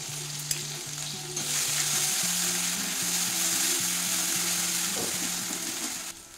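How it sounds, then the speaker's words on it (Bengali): Lightly ground onion paste sizzles and fries steadily in hot oil for a fish curry with potato, peas and cauliflower, close and continuous with stirring and a low rhythmic hum beneath. "এবার আমি পেঁয়াজ দিয়ে দিচ্ছি।"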